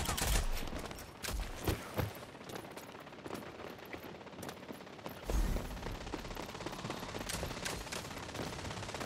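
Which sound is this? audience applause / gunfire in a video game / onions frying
gunfire in a video game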